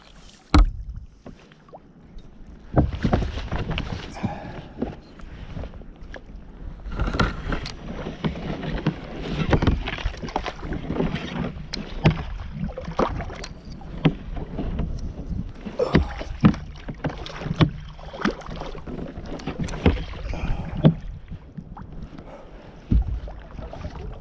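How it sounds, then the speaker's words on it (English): Kayaks paddle out from a backcountry campsite, with irregular splashes and drips of paddle strokes and knocks against the hulls over steady wind noise, close and moderately loud throughout. "we're all packed up and we're paddling out of here"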